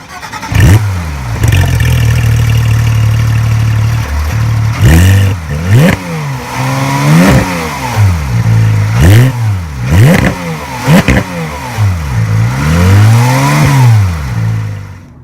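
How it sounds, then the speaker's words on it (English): A 2019 Porsche 911 GT3 RS with a naturally aspirated engine starts and idles loudly nearby, then a series of sharp throttle blips rise and fall repeatedly over the idle. "you've heard it start, you've heard the throttle blipped, you've heard that naturally aspirated engine."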